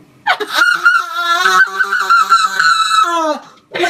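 A person's voice imitating a goose, letting out a long, loud, strained honking wail close to the listener, with a brief laugh-like burst at the end.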